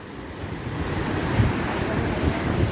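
Flooded river water rushing hard at Salbardi, a continuous loud broadband roar with gusty wind buffeting the microphone and no clear voices.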